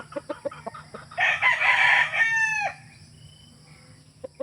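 A Red Kelso gamefowl rooster crows once, loud and close, after a few sharp clucks, then quiet background remains with a faint cluck at the end.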